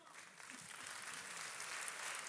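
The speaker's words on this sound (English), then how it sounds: "Every single lady that keeps yelling out there, you're a good cheer squad there" Women in an audience cheer and call out as a crowd, a steady wash of applause-like noise from a distance with faint voices mixed in, holding at an even level throughout.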